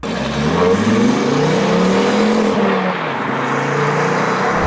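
2.5-litre inline-five car engine revving, a loud, close, throaty roar that climbs and falls in pitch over several seconds with strong low rumble, no voices.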